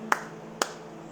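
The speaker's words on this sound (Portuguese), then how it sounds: "Experimente bater palmas." Two crisp hand claps, about half a second apart, close and clear against a quiet, faintly humming room.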